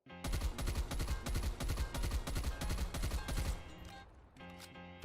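Rapid bursts of submachine gun fire from a video game gunfight, with a KSP fitted with maxed-out attachments, fired in a steady run of close, loud three-round bursts with heavy low thump, stopping briefly before a few more shots.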